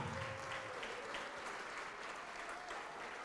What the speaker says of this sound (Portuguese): Vamos aplaudir mais.